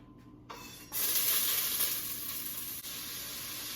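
Onions and garlic tipped into hot olive oil in a pot. Quiet at first, then a sudden loud, steady sizzle rises and settles into a continuous close hiss with no voices.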